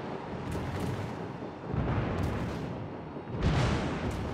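Warship guns firing in World of Warships, with the super ship Admiral Ushakov: three heavy, rumbling booms spaced a second or two apart, each rolling out into a long low roar.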